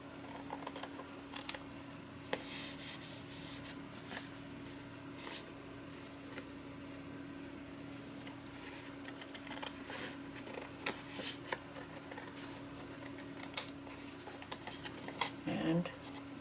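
Scissors trim paper for an altered book journal, with a series of close, crisp snips and rustling paper handling spread across the clip, fairly quiet, with a low steady hum underneath.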